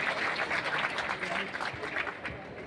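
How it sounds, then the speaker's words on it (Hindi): Applause rises from the audience at a live comedy show at the Firozabad Mahotsav, a steady wash of clapping heard from a distance with chatter and voices mixed in. "एक बार तालियां बजा रहे हैं"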